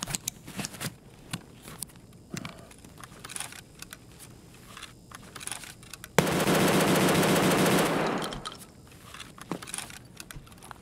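A PPSh submachine gun in a video game fires a dense, unbroken burst of about two seconds, loud and close, between quieter scattered game noises and clicks.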